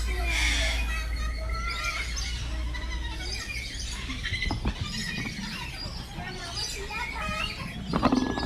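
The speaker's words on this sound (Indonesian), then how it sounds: "Kok bunyi kayak ayam ya?" Inside a zoo bird dome at Taman Safari's Baby Zoo, a bird gives squealing, clucking calls much like a chicken, repeated through the clip amid other chirps and nearby voices.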